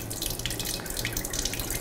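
Cold tap water pouring into a wide cooking pot for spiced fish broth, a steady splashing rush with small drips and bubbling throughout, close and fairly loud.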